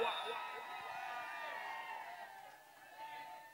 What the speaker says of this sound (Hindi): तालियां बज रही है इस समय, दोनों टीमों के खिलाड़ियों की हौसला अफजाई की जा रही है।